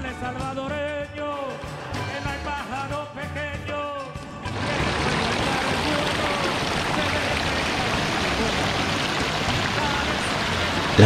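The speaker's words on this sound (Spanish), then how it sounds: "La cascada o chorrerón El Barillo se encuentra en la cabecera municipal de la villa" El Barillo waterfall near Arcatao, Chalatenango, El Salvador, roars as a steady broadband rush of falling water. It begins abruptly after several seconds of rhythmic music and stays loud and constant to the end.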